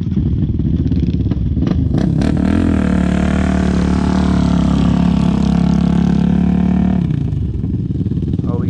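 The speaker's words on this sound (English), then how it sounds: "drag race here, Honda versus Yamaha." Honda and Yamaha ATVs drag racing across sand dunes at Little Sahara, with loud engines roaring and revving up close, then one engine holds a long steady drone before the sound drops off near the end.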